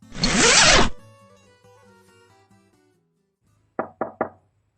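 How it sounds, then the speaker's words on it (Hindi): Three quick, sharp knocks on a door near the end, following a loud rustling burst and a quieter stretch of faint background sounds. "मॉम यार, नॉक करने की जरूरत नहीं है।"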